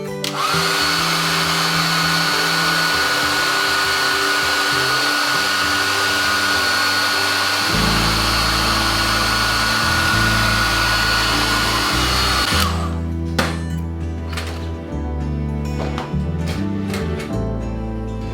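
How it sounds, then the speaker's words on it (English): A hair dryer blows loudly and steadily for about twelve seconds, drying watercolour paper, its pitch dropping partway, then cuts off, followed by scattered light clicks and handling noises as tape is removed. "use the hairdryer to just dry this paper off"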